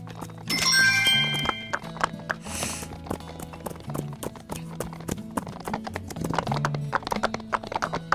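Rhythmic hoofbeats of horses in a wild-horse island video game, with Frisian and Andalusian breeds, clip-clop steadily and close, joined by bright chiming game tones and a short whoosh.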